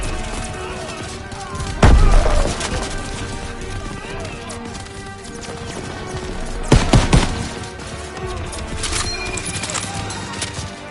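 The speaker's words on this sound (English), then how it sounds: "Lobbing a grenade!" A grenade explosion in a PS4 shooter bursts loudly amid constant battlefield gunfire, with a second similar blast a few seconds later.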